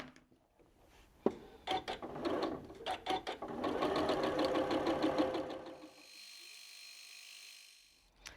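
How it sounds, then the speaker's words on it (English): A sewing machine stitching quilt fabric for a heart quilt block, starting with a few short bursts, then a run of rapid rhythmic stitching up close, trailing off into a quieter hum. "So you can see there I've drawn the line, and I'm just going to sew."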